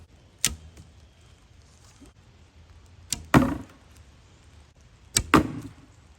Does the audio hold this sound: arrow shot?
yes